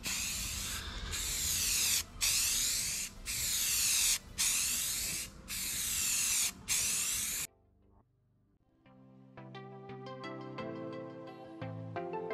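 A spray gun lays a wet coat of paint on a Mazda RX7 in several loud hissing passes separated by short pauses, followed by quieter clattering and handling sounds.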